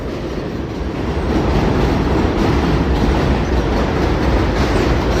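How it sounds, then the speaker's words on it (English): Loud, steady rumble of a subway train in motion with rhythmic clickety-clack of wheels on rails, heard from inside, continuous and close. "I'm about to take this train to the next station"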